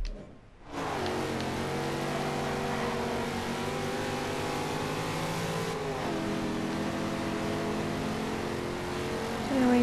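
A Chevrolet Corvette Stingray in the racing game Forza Horizon 2 drives with a loud, steady engine drone and harmonic tones that shift as it changes speed. The engine runs continuously for nearly ten seconds with no talk over it.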